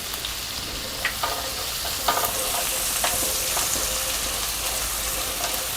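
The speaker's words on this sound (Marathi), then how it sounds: "थोडंसं परतून घ्यायचं आपल्याला हे" Green chilies sizzle steadily in hot oil in a pan while being sautéed for palak paneer bhurji, with occasional sharp clicks of a spatula stirring against the pan and no talking.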